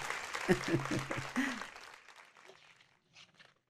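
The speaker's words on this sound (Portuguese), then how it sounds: "Sim, você pode bater palmas se quiser." A sermon audience claps under a speaker's voice; the applause is dense at first, then thins and fades out within a few seconds.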